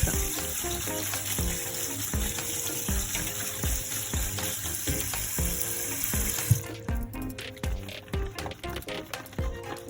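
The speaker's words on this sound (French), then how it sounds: "je vais les rincer à l'eau claire" Cherry tomatoes are rinsed under a running tap of clear water for a mushroom noodle dish: a steady, close rush of water for about seven seconds, then scattered drips and small knocks once the flow stops.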